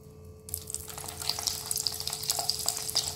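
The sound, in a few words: drumstick flower fritters frying in hot oil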